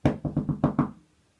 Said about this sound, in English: Again, there was a knock on the door.